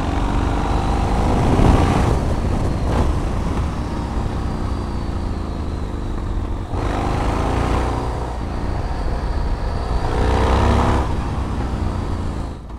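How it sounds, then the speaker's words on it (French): A 2005 Yamaha MT-01 motorcycle engine runs with a steady, loud low rumble that rises and falls with throttle changes, heard close up against outdoor wind noise. "j'ai démarré la MT-01, c'est tout."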